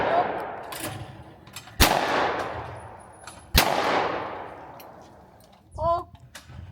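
A 688 over/under shotgun fires at a shooting station: two loud, sharp blasts about two seconds apart, each with a long fading echo across an open range, then a brief spoken exclamation.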